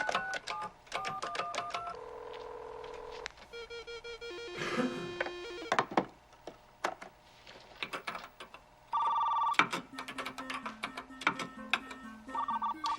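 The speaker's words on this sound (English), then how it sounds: "Dialing into the school's computer." Computer dialing in over a telephone line in the film WarGames: a run of touch-tone dial beeps and modem-like tones in stepped, shifting pitches, with clicks and a sustained carrier burst, fairly quiet with no talk.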